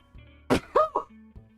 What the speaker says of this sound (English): The sneeze was real, folks.